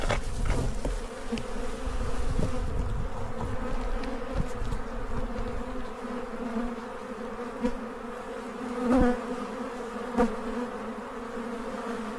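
Killer bees buzzing in weeds, a steady droning hum with a few louder passes as individual bees fly close, then drift off.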